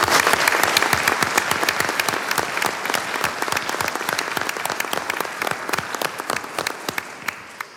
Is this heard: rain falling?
no